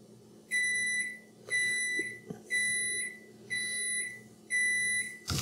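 Toshiba air fryer microwave convection oven beeping, five evenly spaced long electronic tones, close and clear in a quiet room.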